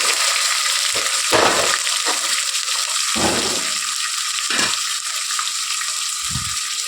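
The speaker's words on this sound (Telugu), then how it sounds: "ఇలా ఫ్రై అయ్యాక ఇందులో టమాటా కట్ చేసిన టమాటా పళ్ళు వేసుకోవాలి" Ginger garlic paste and tomatoes frying in a pan give off a loud, steady sizzle, with several short stirring scrapes cutting through the constant hiss.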